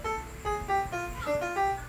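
Single piano notes trace a melody in a short rhythmic phrase, about eight struck tones, near and clear with nothing else playing.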